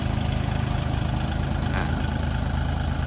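A 40 hp tractor engine runs a hydraulic dump trailer lift, a steady low diesel rumble with an even throbbing pulse, close and continuous throughout.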